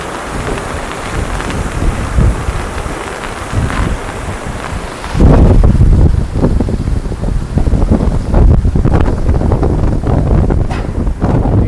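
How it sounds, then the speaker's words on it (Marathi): Strong wind roars during the Girna dam flood, buffeting the microphone loudly and continuously, with a sharp jump in force partway through and no talking. "हवा पण खूप जोरात चालू आहे."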